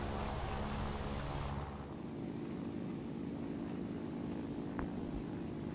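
Yak-3 with a VK-107 engine climbing and accelerating in War Thunder, a slightly overheating piston engine giving a steady, loud, continuous drone with no talk over it.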